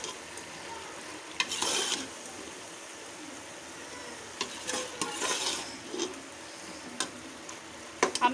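A spoon stirs a beef dal gosht mixture in a pan, scraping in a few short bursts over a soft, steady sizzle; no one speaks.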